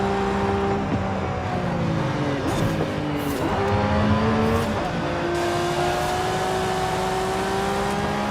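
A Revolto hypercar engine in Forza Horizon 5 drones steadily at sustained revs, its tone sweeping up and down through gear shifts, loud and continuous with no talking.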